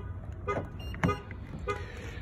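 A 2020 Nissan Altima SR gives short horn chirps from its keyless entry: three brief, fairly faint toots about half a second apart over a low outdoor background.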